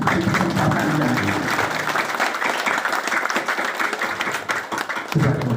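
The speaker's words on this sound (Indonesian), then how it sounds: "saya mohon tepuk tangan yang panjang di kesempatan yang ini" A large crowd gives sustained applause in honour of the late General Soeharto at a ceremony at Giribangun, a dense, steady roar of clapping that holds for several seconds, with a brief dip near the end before swelling again.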